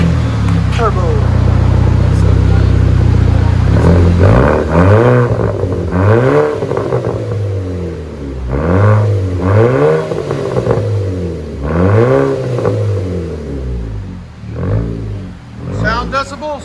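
A 2007 Audi A3 2.0 turbo with a straight-pipe exhaust starts with a loud, steady rumble, then revs hard about five times. Each rev climbs and falls back in a raspy sweep, heard close and loud.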